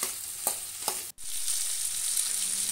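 Onion, ginger, garlic, pepper and cumin sauté for a fish curry, with a steady bright sizzle broken by a couple of stirring scrapes and a brief drop in sound.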